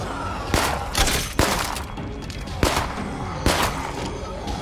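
Gunfire in the zombie survival game State of Decay 2: four sharp, loud shots spaced about a second apart, each with a short decaying tail over a constant noisy background.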